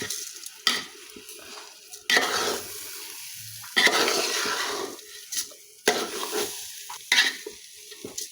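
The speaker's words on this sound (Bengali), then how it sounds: "চালগুলো এখন ভেজে নেব একটু।" Rice grains fry in a pan, giving a close sizzle broken by repeated scraping stir strokes and occasional clinks of a utensil against the metal, in irregular bursts.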